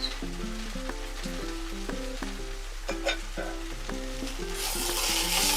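Okra (bhindi) fries in a pan with crushed chilli, ground coriander and salt, giving a loud, close, steady sizzle that swells near the end, while a spoon stirs and scrapes intermittently over faint background music, with no talking.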